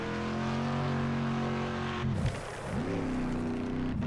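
Engine drone from a racing car in Next Car Game held at steady revs, then dipping and rising again as the car slides through a handbrake turn, loud and continuous with no voices.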